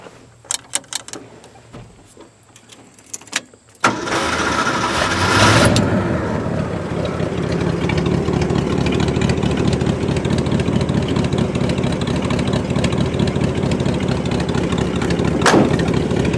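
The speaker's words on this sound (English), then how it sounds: "the throttle linkage came disconnected, so I don't have anything more than an idle." A 1969 Ford F250 truck engine, its throttle linkage disconnected so it can only idle, runs at a steady, loud idle after a few quiet seconds of faint clicks and knocks. The rumble stays even and continuous to the end, with no talking.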